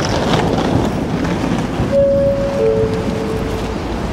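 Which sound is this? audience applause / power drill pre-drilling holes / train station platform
train station platform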